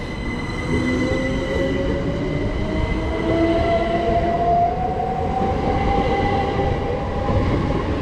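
A train on the West Coastway Line pulls away toward London Victoria, its rumble steady and close, with a rising whine of traction motors and faint squeal of wheels, no voices.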